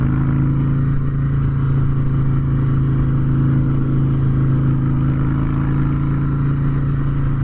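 Harley-Davidson Breakout motorcycle with a Twin Cam engine idling steadily and close by, a deep continuous rumble with no revving and no voices.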